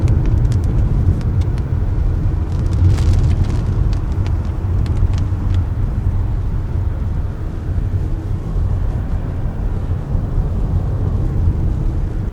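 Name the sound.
car driving fast past on the road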